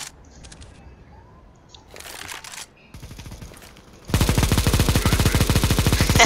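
Rapid automatic gunfire rattles out loud and close in a CS:GO match, a dense burst of evenly spaced shots after a few quieter scattered sounds earlier.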